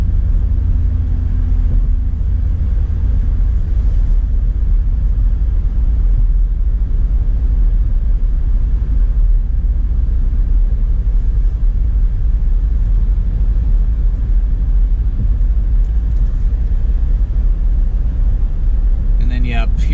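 Car driving westbound along M-102, 8 Mile Road, on a quiet Sunday morning, heard from inside as a steady low engine and road rumble with constant tyre hum throughout.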